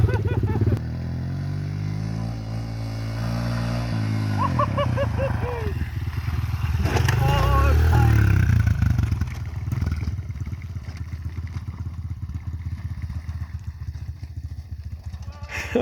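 Honda CRF125F dirt bike bumping over rocky ground with engine drone, rattles and clatter, close by, while a rider's voice talks over it.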